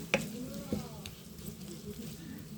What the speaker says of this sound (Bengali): পেঁয়াজটা ভাজি ভাজি করলাম